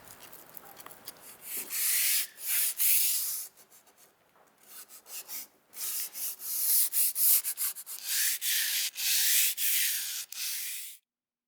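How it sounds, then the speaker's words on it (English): Sandpaper rubs back and forth over the faces and flutes of a wooden fluted column in a woodshop, a close, dry rasping in rhythmic bursts with brief pauses between passes, no talk. "We still have to make sure we sand the faces and sand any inconsistencies out of the flutes."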